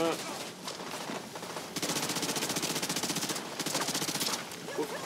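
Gunfire from a lever-action gun in The Division 2 video game: a fast string of loud, close shots that comes in bursts, with a brief lull before the firing picks up again.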